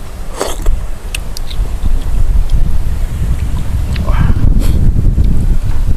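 Wind blowing outdoors in a natural setting, a steady broad rush that stays loud through the whole stretch with buffeting against the microphone and a few brief knocks and clatters, no talk heard.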